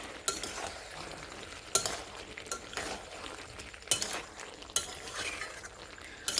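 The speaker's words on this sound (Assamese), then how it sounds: "এতিয়া মই চব্জিখিনি অলপ লাৰি দিছোঁ।" Pumpkin curry vegetables are stirred in a hot pan, a spoon scraping and clinking against the metal at irregular intervals over a steady soft sizzle of frying.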